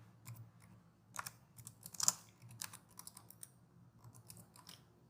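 Typing Python code on a computer keyboard: irregular, light key clicks patter across the whole stretch, close but quiet, with no talking.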